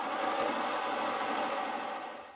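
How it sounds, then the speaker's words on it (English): A sewing machine stitching the centre back waist seam of pyjama loungewear pants, a continuous close whirring run that slows and stops at the end. "sew the centre back waist seam."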